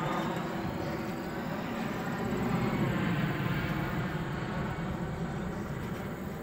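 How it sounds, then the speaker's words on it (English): Jet aircraft passes overhead near an airport above farmland, a steady broadband roar that swells slightly mid-way, heard from a distance with no talking. "Got a jet coming in up there."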